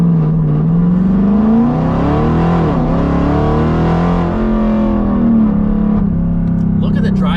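A 1500hp RSP Jeep Trackhawk engine pulling hard at part throttle from inside the cabin, a loud, steady deep drone sweeping up and shifting pitch, with a voice starting at the end.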